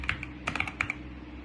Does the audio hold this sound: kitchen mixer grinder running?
no